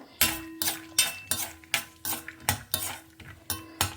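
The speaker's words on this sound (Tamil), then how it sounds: "இது கொஞ்சம் செவக்க வறுக்கட்டும்" Peanuts dry-roasting in a pan are turned with a spatula in a steady rhythm of about ten scraping, rattling strokes, close and clear, with a faint sizzle underneath.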